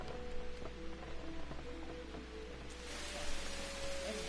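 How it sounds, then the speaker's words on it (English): Rain falling in Kingdom Come: Deliverance, a steady hiss of drops on surfaces that swells louder partway through, heard without any voices. "Is it raining?"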